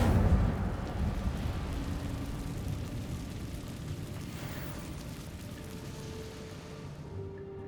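Incendio fire spell cast in Hogwarts Legacy on PS5 inside a cave: a burst at the start trails into a sustained roaring, crackling rumble that slowly fades over several seconds.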